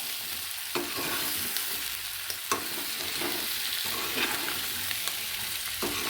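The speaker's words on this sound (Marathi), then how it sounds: "तर बघा बटाटा आणि वटाणे दोन्ही भाजून घ्यायचे" Potatoes and peas roasting in a pan for a bhaji, a continuous soft sizzle punctuated by periodic scrapes and taps of a spoon as they are stirred.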